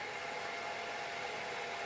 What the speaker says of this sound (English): You can use the hairdryer to heat up the label, and then it will peel off much easier and not tear.